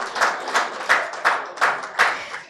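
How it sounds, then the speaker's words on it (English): Audience applause for a panelist at a health report launch event in Nigeria, brief rhythmic clapping from a small group with regular sharp bursts and no talk. "A round of applause for him, ladies and gentlemen."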